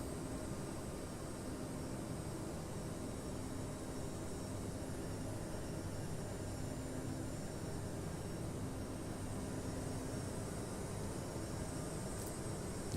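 A simulated airliner climbing under autopilot in Microsoft Flight Simulator 2020 hums on as a steady, soft engine drone with broadband rushing noise that stays constant throughout.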